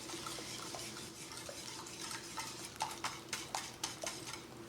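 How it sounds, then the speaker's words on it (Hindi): Eggs and milk whisked for French toast, a utensil scraping and clinking in a bowl in an irregular run of strokes that quicken and grow louder toward the end, close up and without talk. "4 अंडों में 1 कप दूध डाला हमने और इसको मिक्स कर लिया है"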